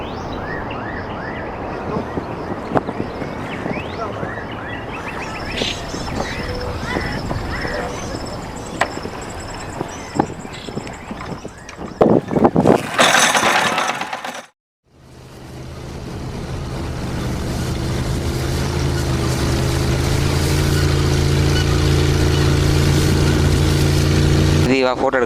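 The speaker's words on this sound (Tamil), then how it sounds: "மச்சான் ஏறி இன்ஜின் அடிச்சு விடுங்க." A boat engine on a fishing boat sputters and cuts out, then after a brief silence starts up and settles into a steady, loud, droning run that continues to the end.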